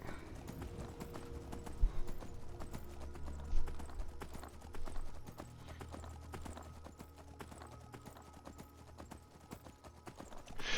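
Horse hooves clop steadily at a gallop in the Skyrim video game, a continuous rhythmic drumming of hoofbeats over a low ambient music drone, fairly close and sustained throughout.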